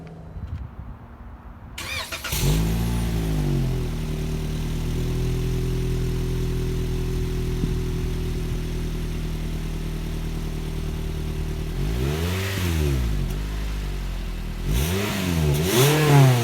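A 2018 Toyota Corolla iM starts with a key turn, its engine catching and settling into a steady close idle, then revving twice in quick rises and falls near the end.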